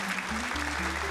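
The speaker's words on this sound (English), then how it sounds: "round of applause for that." Applause from a studio audience comes as a dense, steady wash of clapping, loud and continuous through the brief moment with no pauses.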